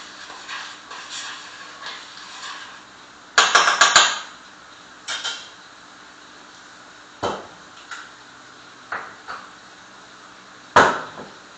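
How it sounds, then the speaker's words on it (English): Metal utensils clink and scrape against a pan as meatballs for soutzoukakia are turned over, with sharp scattered knocks and a short clattering cluster amid a quiet hum. "I'm just turning my meatballs on the other side"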